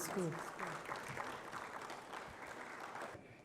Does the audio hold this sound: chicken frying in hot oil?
no